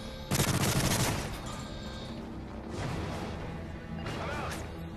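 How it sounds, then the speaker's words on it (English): Rapid gunfire bursts in the video game Call of Duty: Modern Warfare 3 co-op Special Ops. A loud volley comes first, then two shorter, quieter bursts follow at intervals. "I'm shooting anything that I see."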